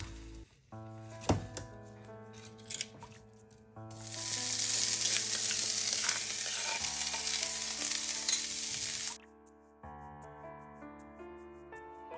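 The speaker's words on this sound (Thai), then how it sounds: "ผัดกันเลยน้ำมันเริ่มร้อนแล้ว" Vegetables stir-fried with garlic and chilli in hot oil in a home kitchen, a loud steady sizzle building for several seconds then cutting off, with soft clatter of stirring around it and background music throughout.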